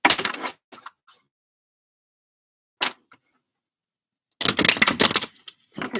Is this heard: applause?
no